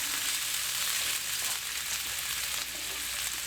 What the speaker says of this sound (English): I'm going to get my onions in at the side while these are cooking